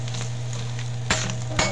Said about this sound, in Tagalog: So gisa muna natin ang mabuti to guys.